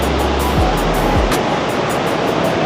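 A strong, rain-swollen river in the mountains around Sapa, Vietnam, rushes past as a loud, steady broadband roar filling the whole clip, close and continuous with no voices.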